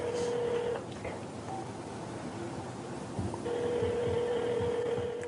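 An outgoing phone call rings on the line: a long electronic ringback tone, a pause of a couple of seconds, then the tone again, faint and steady over a low background murmur.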